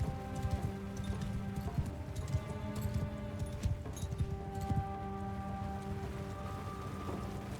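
Horse hooves of horse archers in the samurai strategy game Shokuho drum in rapid, overlapping clip-clop beats, a dense steady patter like rain, with a faint whinny and low battle ambience underneath.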